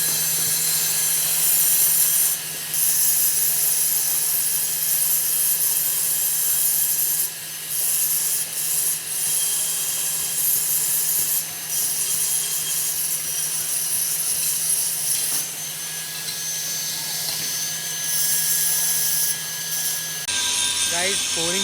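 Hand grinding of a metal part in a factory: a steady, loud, abrasive rubbing and whirring drone that runs almost continuously with brief dips, over a constant machine hum.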